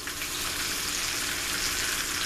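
Home fried potatoes sizzle steadily in a hot pan as they are flipped, a dense, even hiss and crackle with no voices over it.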